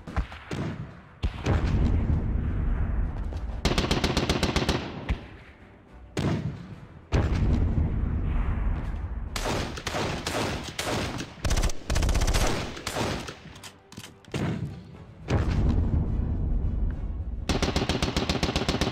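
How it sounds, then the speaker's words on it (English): Mortar and machine gun fire in a First World War squad tactics strategy game: dense bursts of rapid gunfire and heavy thumping blasts, loud and continuous with only brief gaps. "Okay, mortars are fired."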